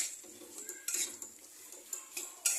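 Salted chicken being stirred and sautéed in oil in a pan, heard as close, repeated metallic spatula scrapes and clinks against the pan over a faint sizzle.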